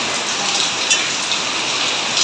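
Steady rain falls close by, a dense, even hiss of drops with a few louder splashes, continuous and with no voices.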